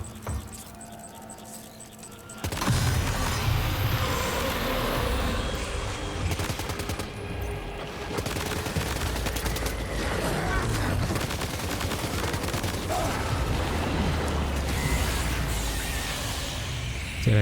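Sustained, loud gunfire in Death Stranding 2 cuts in abruptly and runs almost without a break, with rattling bursts and heavy impacts that blend into a dense wall of noise.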